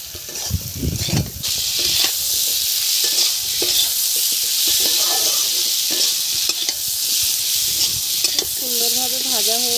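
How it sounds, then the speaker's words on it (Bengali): Onion and potato fry in a pan seasoned with salt, turmeric and chili, a loud continuous sizzle broken by stirring scrapes, with a brief voice near the end. "সুন্দরভাবে ভাজা হয়ে গেছে পেঁয়াজটা"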